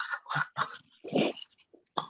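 Several short coughs from a person at home, bursty and close, with brief pauses between them and a throat-clearing rasp near the middle.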